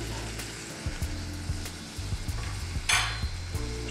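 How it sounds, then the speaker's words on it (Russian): Whole cumin seeds hit hot oil in a pan while cooking bunny chow, giving a bright sizzle with a burst of crackling, alongside light stirring and a few metallic utensil clicks, up close. "Теперь добавляем кумин, немолотые зернышки."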